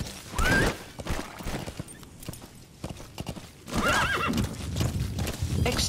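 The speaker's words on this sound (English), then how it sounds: "Use your horse." A horse in the Metal Gear Solid V: The Phantom Pain video game whinnies twice, loud and near, with rhythmic hoofbeats clopping steadily between and under the calls.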